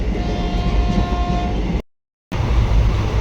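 A steady, loud rumble of a moving train with a faint horn-like tone early on, briefly cut to silence before the rumbling resumes.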